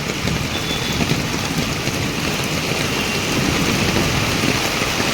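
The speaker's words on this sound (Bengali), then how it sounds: "দেখুন প্রথম বৃষ্টি" Rain falls steadily on a village road during the first rain of the season, a dense, even hiss of drops with a low rumbling undertone and no breaks.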